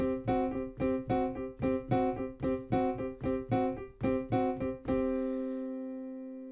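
A quick guitar riff of about a dozen evenly spaced chord hits in a driving rhythm, ending on one long ringing chord that slowly fades.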